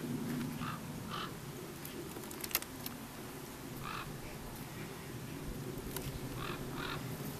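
Honey bees swarm around hive frames full of honey, a low steady buzzing drone close by with a few sharper knocks and scattered brief tones, no voices.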